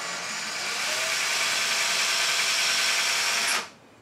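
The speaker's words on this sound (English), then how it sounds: "So we're going to drill very little." A power drill bores through drywall while mounting a coat rack. A loud, steady whine holds for about three and a half seconds, then cuts off abruptly.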